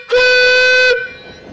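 A single loud, steady whistle blast from a vintage engine, lasting under a second, bright and harmonically rich, then cutting off and leaving a faint hum.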